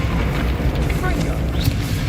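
A Confringo fire spell in Hogwarts Legacy detonates as a heavy, rumbling boom with deep low-end roar and crackling debris, loud and sustained across the moment.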